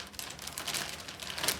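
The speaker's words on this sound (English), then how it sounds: "We have a knife right here. We're just going to cut it across." A knife slices across the cardboard and tape of an Oki C711WT printer box, a close run of scratchy, crackling cuts with no speech.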